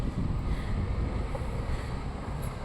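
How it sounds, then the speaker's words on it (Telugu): Strong headwind buffets the microphone while cycling in Sweden, a loud continuous low rumble of wind with no talk. "మాకు గాలి ఎదురుగా వస్తుంది, పోలేకపోతున్నాం."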